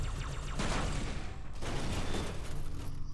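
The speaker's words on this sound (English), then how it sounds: "shoot them a couple times and they blow up" Sustained bursts of rapid video-game gunfire in Halo 2 Anniversary on PC, with dense, noisy crackling across the whole clip and a brief pause midway before the shooting resumes.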